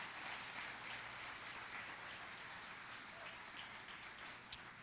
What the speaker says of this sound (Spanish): Vamos, dale un aplauso a Dios,